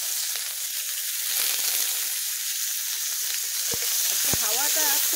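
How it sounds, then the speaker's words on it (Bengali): Chopped onion frying in hot mustard oil in a wok with dried chilli and cumin, a steady close sizzle with a few clinks of stirring and brief squeaky scraping sounds near the end. "দিয়ে দিচ্ছি কুচিয়ে রাখা পেঁয়াজ।"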